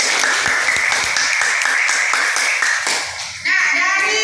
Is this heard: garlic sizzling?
no